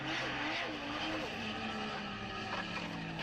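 A drift car at the British Drift Championship runs on a bare alloy rim after a tyre debeaded, its engine wail and grinding scrape carrying steadily from a distance under crowd and commentary noise.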